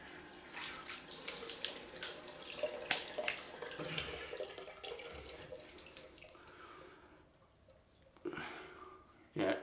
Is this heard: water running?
yes